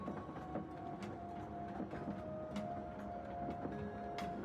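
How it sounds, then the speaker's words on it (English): Steady rail ambience with rhythmic clickety-clack of a train running on track, set as background for a tabletop fantasy game train heist, continuous and moderately loud with faint tonal squeals. "off within the distance, you hear the clickety-clack of the train"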